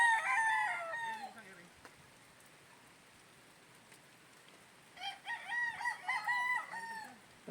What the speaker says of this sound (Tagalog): pumipili si Jayfern ng iuwi namin mga stag.